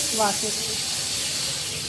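Pressure cooker that has just boiled kidney beans letting off steam in a steady loud hiss, with a short tonal whistle near the start before the hiss continues evenly.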